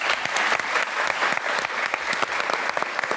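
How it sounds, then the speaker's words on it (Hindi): Studio audience applause on a television talk show, a loud burst of many hands clapping with a steady rhythm, heard alone without talk. "इनके लिए जबरदस्त तालियां"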